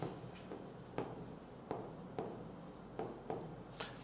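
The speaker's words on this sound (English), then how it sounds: "I'll give further space and write it." Pen strokes of handwriting set down during a lesson, with a steady soft scratching broken by sharper taps as letters start and end, close and fairly quiet, no voices.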